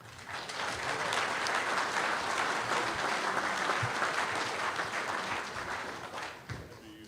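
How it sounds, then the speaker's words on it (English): Sustained applause from a crowd, steady and dense for several seconds before tapering off near the end. "please give these hardworking officers a round of applause"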